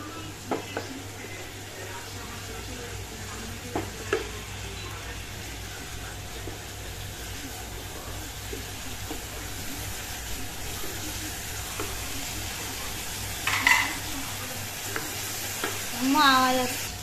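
Spice masala for Bengali-style ghugni sautéing in a pan after a splash of water, a soft continuous sizzle broken by occasional scrapes and clicks of stirring, with a few louder spatters near the end.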